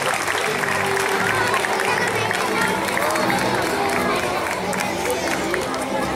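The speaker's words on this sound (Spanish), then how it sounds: "Un aplauso a artistas que se han esforzado bastante." A school audience at a Catholic school's award ceremony gives sustained, loud applause mixed with cheering and children's shouts, steady and dense throughout.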